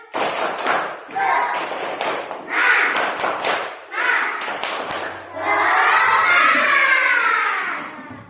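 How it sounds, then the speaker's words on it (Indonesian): Schoolchildren in a classroom doing the rhythmic 'tepuk semangat' clapping chant, bursts of claps and thuds with shouted voices, then a long stretch of loud cheering children. "Tepuk semangat lagi"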